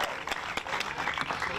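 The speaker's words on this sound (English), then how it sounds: "another big round of applause for both teams" A crowd at a minor AA youth baseball game applauds with dense, continuous clapping, fairly close and lively, over a short stretch.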